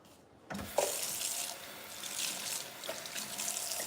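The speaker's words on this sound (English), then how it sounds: "I'm gonna wash a cup and grab a glass of sweet tea." Water runs steadily from a kitchen sink tap into the basin while a cup is washed, a close broadband hiss that starts abruptly and flows on with small splashing shifts.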